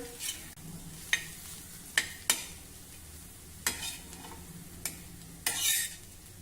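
Lemon juice being stirred into carrot thecha in a pan, a soft low sizzle under a series of sharp spoon scrapes and taps spaced about a second apart, fairly quiet, no talking.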